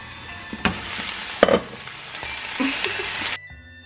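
Vegetables and spices including garlic powder, sage, cumin and minced garlic frying in a pan. A close sizzle is broken by a few loud stirring scrapes and clatters, then cuts off abruptly near the end.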